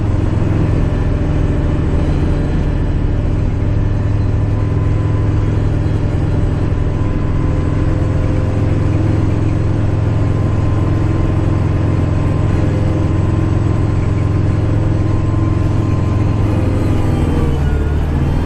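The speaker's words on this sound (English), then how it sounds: "I'm kind of just basically showing you how the snowblower works too" Snow blower on a Kubota running steadily while blowing snow, a loud continuous engine drone with a deep low hum that holds constant, close by and alone without talk.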